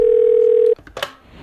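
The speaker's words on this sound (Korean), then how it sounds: "제가 한번 마블 회사에 전화를 걸어서 한번 확인을 좀 해보도록 하겠습니다" A telephone gives a loud, steady dial tone while a call is being placed. The tone holds for under a second, then cuts off and is followed by brief clicks and a short burst of noise.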